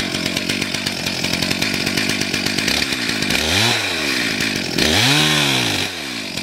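A chainsaw cuts into a tree, its engine droning steadily at high revs with rising and falling pitch sweeps as the load changes, loud and close throughout.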